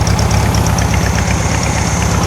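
A 1964 VW Beetle's 1600cc dual-port engine, suffering a vacuum leak, revs steadily and loudly up close, its throbbing low-end pulse continuous for the whole stretch.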